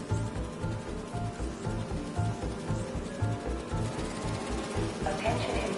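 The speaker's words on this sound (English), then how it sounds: "Do you see those little holographic bee wolves?" Holographic bee wolves in the Marvel's Spider-Man 2 video game give off a steady, pulsing insect-like buzz that holds for several seconds, loud and continuous under a game soundscape.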